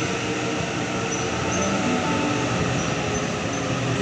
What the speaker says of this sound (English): I'm here at Schofields and I'll be getting this train to Central.